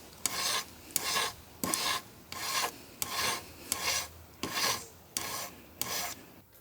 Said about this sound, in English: just get a file, and as it's aluminium, it shouldn't take too long, and just smooth out the edges